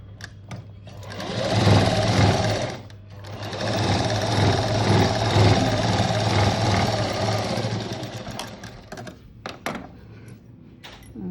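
A sewing machine topstitches a boat neck blouse in two steady running bursts with a brief pause between them, followed by scattered clicks and handling noises.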